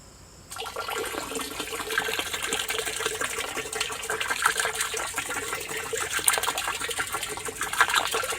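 EM mother solution is poured into a barrel, starting suddenly as a steady, close gush of liquid that keeps running and swells slightly toward the end.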